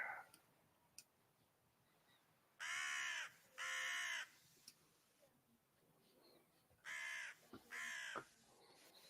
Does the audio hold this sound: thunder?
no